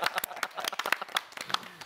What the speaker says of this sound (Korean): 아 진짜 우리가 또 박수를 이렇게 쳐줘야 될 것 같습니다